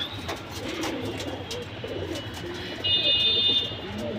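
Silver baby pigeons give soft, low coos at night under a constant background hiss, with a brief thin high tone near the end.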